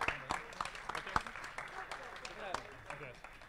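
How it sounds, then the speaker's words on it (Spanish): Audience applause at an award ceremony for a maze-solving robot competition, a quiet, sparse scattering of claps in a hall with voices murmuring underneath. "Otro aplauso."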